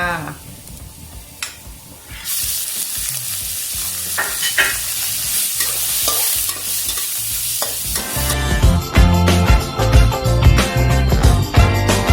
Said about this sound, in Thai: ตอนนี้ก็ยังใช้ไฟกลางอยู่นะคะในการผัด